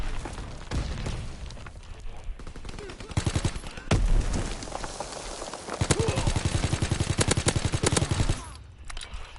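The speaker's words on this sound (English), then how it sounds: "You gotta pull down on your stick as you shoot to counter the recoil." Rapid bursts of automatic gunfire from Call of Duty WWII, loud and close, in repeated rattling strings with pauses between, sometimes sounding like several weapons firing at once.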